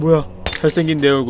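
Mirror glass shattering in the horror game Bad Dream: Coma: a single brief, bright crash burst under someone talking close to the microphone.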